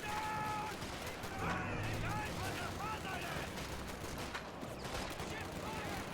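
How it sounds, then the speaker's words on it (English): Rapid gunfire bursts and crackling shots in a real-time strategy game battle where riflemen face assault grenadiers, a dense continuous fusillade with a voice talking over it. "riflemen are getting gunned down by these Vet 3 assault grenadiers"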